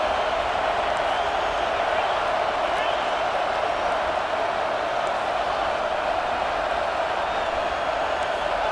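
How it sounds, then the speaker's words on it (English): A football stadium crowd roars steadily through a red zone defensive stand, a dense, sustained wall of cheering and noise that holds at full level throughout with no break. "And here comes the noise. This crowd is trying to inspire this defense to make a big red zone stop."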